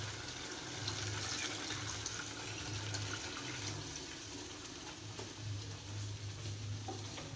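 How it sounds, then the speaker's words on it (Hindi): Water poured into a cooking pot of cauliflower and beef curry (gobi gosht) gives a steady, close rushing and hissing wash that runs unbroken from start to end, with no voices. "ये मैंने पानी डाल दिया इसमें"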